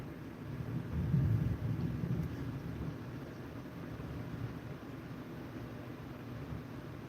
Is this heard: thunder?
yes